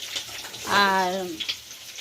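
Potatoes fry with ground spices, ginger, green chilli paste and sugar in a wok, giving a soft continuous sizzle close by, with a brief voiced tone rising over it in the middle.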